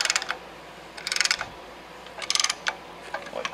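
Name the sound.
ratcheting a tool to compress a brake caliper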